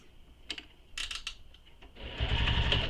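A sewing machine top stitches a bag, with a few short clicks and bursts of mechanism at first, then a louder, steady run of close stitching toward the end.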